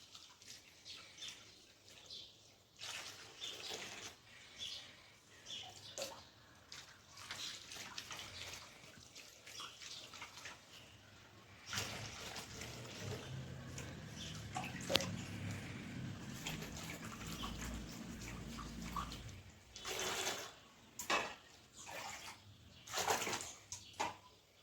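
Water drawn from a tap in a rural Egyptian home kitchen during bread-making, a faint steady stream lasting several seconds amid quiet room noise and soft chirps.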